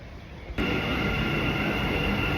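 An above-ground Dubai metro train heard from inside, its hum jumping into a loud, steady roar of motor and running rails after a moment.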